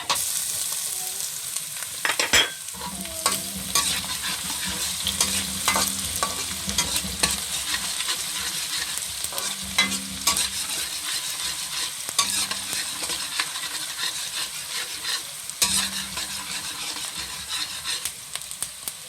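Onions sautéing in a pan for simple pork giniling, with a steady sizzle and stirring scrapes running throughout, moderately close and with no talk.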